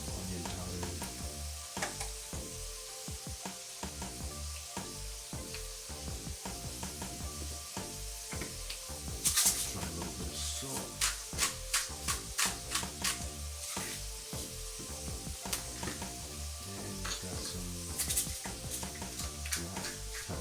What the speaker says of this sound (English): I put olive oil in first and give the beans a great chance to simmer